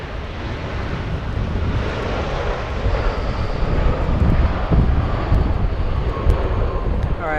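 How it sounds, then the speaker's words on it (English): An All Nippon Airways airliner touches down at Los Angeles International Airport, a steady broadband engine rush with wind noise, fairly close and moderately loud throughout. "We say hello to all Nippon touching down right in front of us."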